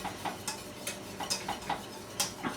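Spoon scraping through thickening gravy in a pan, a quiet run of regular scrapes and clinks recurring roughly every half second, close and fairly faint with no voices.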